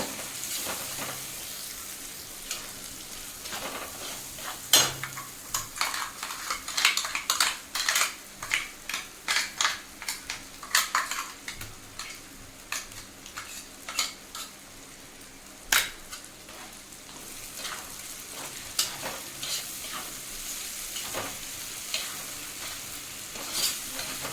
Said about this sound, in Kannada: ಮೆಣಸಿನ್ಕಾಯಿ ಪೇಸ್ಟನ್ನು ಹಾಕೋತಾ ಇದ್ದೀನಿ ಇದನ್ನು ಹಾಕೊಂಡ್ಬಿಟ್ಟು ಸ್ವಲ್ಪ ಚೆನ್ನಾಗಿ ಇದನ್ನ ಫ್ರೈ ಮಾಡ್ಕೊಳ್ಳೋಣ